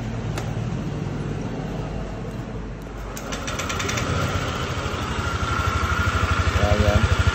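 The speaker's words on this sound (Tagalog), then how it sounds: "papaanda rin natin mga lods kung okay na ba yung andar" An overhauled Honda Click 125 scooter engine fires up and settles into a steady, close, loud idle with a rhythmic low chug and no talking.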